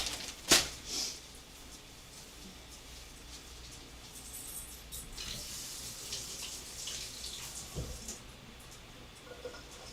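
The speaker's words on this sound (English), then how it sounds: "Gotta wash my hands." A tap runs water into a sink for handwashing, a steady faint hiss after a brief louder splash at the start, continuing quietly with no speech.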